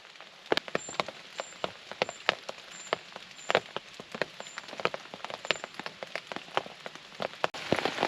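Heavy rain pattering on a tarp at a camp in misty woods, steady hiss with dense irregular drips and heavier drops, close and continuous with no talking.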